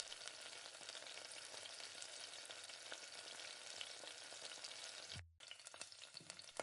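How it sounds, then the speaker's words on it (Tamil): Onions, green chillies and curry leaves sauté in oil for a mutton kuzhambu, giving a steady, close crackling sizzle that runs without pause, cuts out briefly near the end, then picks back up. "கொஞ்சமாக கருவேப்பிலை சேர்த்து நல்லா வதக்கி விடுங்க"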